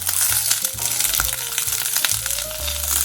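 Chopped onion and carrot sauté in a little vegetable oil in a hot pot, a steady close sizzle with soft crackles and a few stirring scrapes, no voices.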